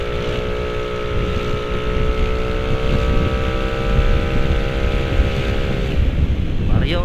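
A Honda Vario 125cc scooter engine runs at full throttle under steady road and wind noise, holding a continuous loud drone throughout.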